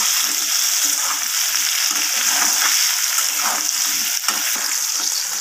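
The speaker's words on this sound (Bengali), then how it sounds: "এরপর সব কিছুর সাথে আলুগুলোকে ভালোভাবে নাড়িয়ে চাড়িয়ে একটু লালচে করে ভেজে নেব" Potato pieces with a pinch of turmeric fry in hot oil while being stirred, a loud close steady sizzle with soft scraping stir strokes beneath.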